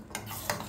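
A spoon stirs sugar into masala tea in a pot, making two soft, brief scraping strokes with quiet surroundings.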